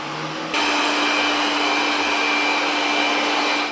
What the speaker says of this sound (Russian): Уровень шума средний. От 59 дБ в тихом режиме до 71 дБ на максималках.